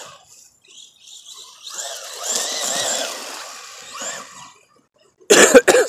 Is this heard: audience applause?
no